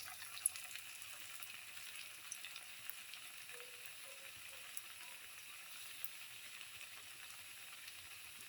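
Chickpea fritters frying in oil, a faint, steady, even sizzle with small scattered pops, continuous and quiet with no voices.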